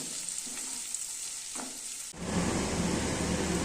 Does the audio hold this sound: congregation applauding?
no